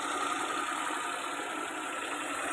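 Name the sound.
Maruti 800 car engine idling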